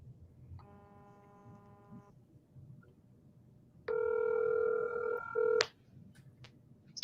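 A phone places a call, giving a short ringing tone, a pause, then a louder, longer ring tone that cuts off over a quiet background hum.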